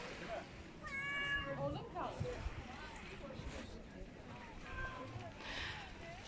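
A green-eyed cat meows several times close by, plaintive calls outdoors at a seaside café spot in Gümüşlük, Bodrum, Turkey, with light background murmur and ambient noise.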